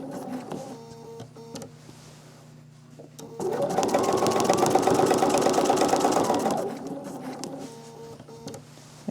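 A sewing machine stitches across a quilt's background in one continuous run of rapid, even needle strokes lasting a few seconds, starting and stopping abruptly against a quiet room hum.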